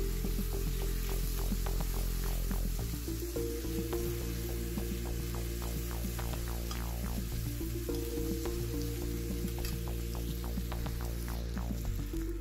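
Tomato frying in a pan with turmeric, coriander powder and red chili powder gives a steady, close sizzle with scattered small pops and scraping clicks throughout, with no talk.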